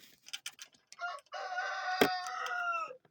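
A rooster crows loudly and close, preceded by a few short clucks and chicken calls from a chicken coop; no talking.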